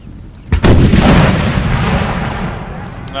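Artillery in the Napoleon Total War battle game, cannons firing round shot: a heavy boom followed by a second blast, then a long rumbling roar that slowly fades, loud and close.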